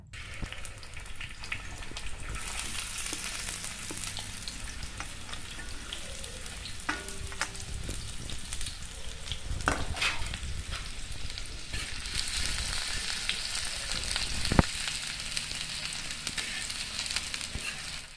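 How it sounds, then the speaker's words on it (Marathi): Chopped onion fries in oil on an iron tawa, giving a steady close sizzle with occasional crackles and stirring scrapes throughout, and no talk. "तेल थोडंसं गरम झालं की त्याच्यामध्ये आपण कांदा टाकून घेऊया"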